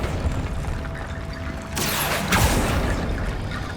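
A Confringo blasting spell detonates in the Hogwarts Legacy video game, a sudden broadband blast that bursts over a rumbling background and trails off into a sustained roar, followed by a second, sharper crack.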